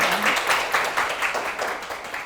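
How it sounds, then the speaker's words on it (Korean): A lecture audience at a climate citizenship academy in Sejong gives a sustained round of clapping after the talk. The applause stays fairly even throughout, with a faint voice near the start. "이해하기 쉽게 강의해 주신 최아라 박사님께 다시 한번 큰 박수 부탁드립니다"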